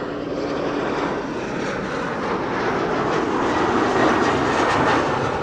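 Airliner arriving from Delhi on approach to Amsterdam Schiphol Airport, a continuous broad engine roar that holds steady and swells slightly toward the end, heard alone without talk.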